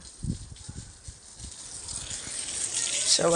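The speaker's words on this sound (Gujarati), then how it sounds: "આ જો અત્યારે પાણી છાંટે છે" Water is sprayed at a seaside Mahadev temple, a steady broadband gush and splash that grows louder toward the end, with faint low voices underneath.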